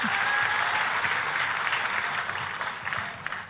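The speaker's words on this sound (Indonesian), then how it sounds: "Tepuk tangannya yang paling meriah buat Tuhan kita." Church congregation clapping loudly and steadily for several seconds during a sermon, a dense, even applause that fades slightly toward the end with no talking over it.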